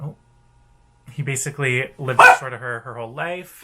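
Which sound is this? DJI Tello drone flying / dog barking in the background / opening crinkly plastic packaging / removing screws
dog barking in the background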